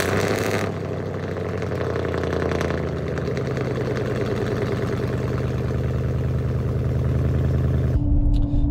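A pickup truck with true dual exhaust idles after a cold start, a steady loud low rumble that holds throughout before cutting off abruptly near the end, with no voices.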